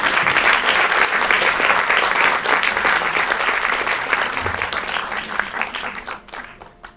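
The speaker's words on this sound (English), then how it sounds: "Please give him another round of applause." Audience applause after a classical Indian dance performance with a sung rendition, a dense, loud burst of clapping that keeps going steadily and then thins out and fades toward the end.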